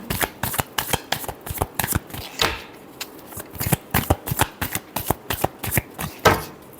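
Playing cards shuffled by hand in a rapid riffle rhythm, with dense repeated snapping flutters, close and crisp, continuing steadily with a short pause midway.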